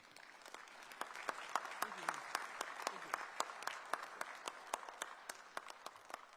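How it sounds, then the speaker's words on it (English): Applause at a regional industrialisation and investment conference, with sparse, distinct claps in a steady rhythm that stay moderately loud for the whole stretch, with faint voices murmuring underneath. "Please, a big round of applause."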